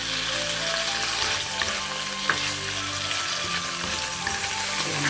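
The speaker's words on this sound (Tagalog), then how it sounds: "i-stir fry natin ito" Cucumber stir-frying in a hot pan, a steady dense sizzle with scraping stirs of the spatula running throughout, close and continuous without any talk.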